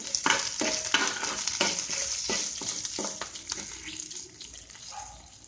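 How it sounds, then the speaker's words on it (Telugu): A spatula scrapes and knocks rhythmically against a pan as turmeric is stirred into a sizzling tempering of spices in oil, then the stirring fades to a quieter sizzle. "ఇందులోనే పసుపు కూడా వేసుకుని అటు ఇటు కలుపుకోవాలి."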